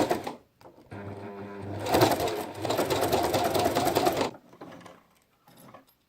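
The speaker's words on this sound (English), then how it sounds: "just top stitch all around the three edges using 1/8 of an inch seam allowance. So go ahead and do that on your machine" A sewing machine runs steadily for about three and a half seconds, top stitching around the edges of a zipper pouch, a close, even mechanical whir that starts and stops cleanly, with quiet handling noise before and after.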